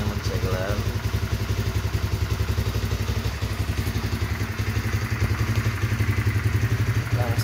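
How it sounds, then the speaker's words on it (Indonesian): A 2007 Honda CBR motorcycle with an original, never-opened engine idles steadily nearby, a low, even pulsing thrum with light mechanical clatter throughout, while someone talks over it. "Langsam juga masih enak banget teman-teman tuh ya, langsamnya masih normal."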